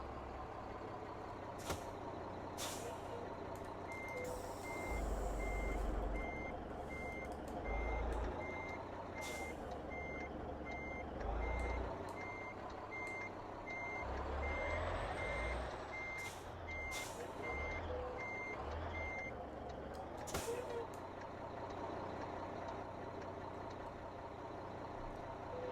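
In American Truck Simulator, a Mack R-Series truck reverses to couple a trailer, its evenly spaced reversing beeps ringing out over a low idling engine, with short air-brake hisses and clunks along the way.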